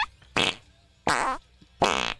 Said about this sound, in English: let's just go with a walking fart